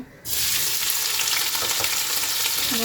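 Chopped onion drops into hot mustard oil in a wok and sets off a sudden loud sizzle. The crackling stays strong and steady after the first burst.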